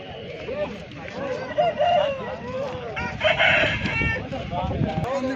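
Roosters crow at the Punganur chicken market in the evening, their loud drawn-out calls rising over clucking and crowd babble while people talk nearby.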